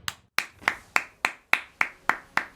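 Eight sharp hand claps in an even rhythm, close and crisp, each with a short decaying tail, alone without talk.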